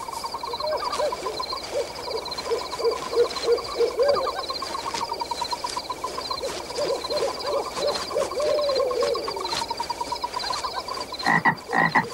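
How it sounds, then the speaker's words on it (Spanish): Frogs croaking by a pond, rhythmic repeated croaks mixed with hooting calls and a steady high insect-like trill, fairly loud and close with no talking. "Eso es una rana croando en el estanque."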